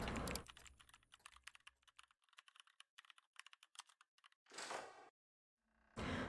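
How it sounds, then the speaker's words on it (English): Rapid, rhythmic computer keyboard typing in a dark otome game's night-time office scene. Close, dense clicks run for several seconds, then fade into quiet before two brief noise bursts. "Just you and the rhythmic clicking of your keyboard."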